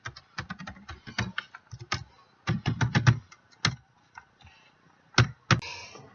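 Quick irregular keystrokes on a computer keyboard as tags are entered, crisp clicks in short runs with brief pauses, close and alone in a quiet room.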